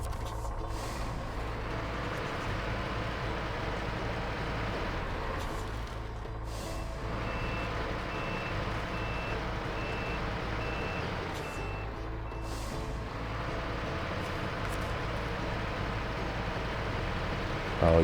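Truck in the Snowrunner video game sounding repeated reversing beeps in a regular on-off rhythm over a constant low engine rumble, with a few air-brake hisses.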